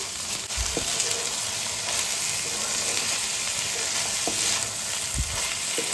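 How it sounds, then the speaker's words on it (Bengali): Soaked rice fries with spices in a pan for prawn pulao, a constant sizzling hiss with occasional knocks and scrapes from stirring, close and moderately loud with no one talking. "এই চালটাকে ভালো করে মশলার সাথে নেড়ে নেবো পাঁচ মিনিটের মতন"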